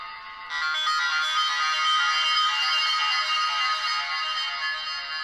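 A Korg NTS-1 synthesizer runs its arpeggiator, a bright, loud, steady electronic tone with a busy buzzy texture that swells in after a quieter start and holds for several seconds.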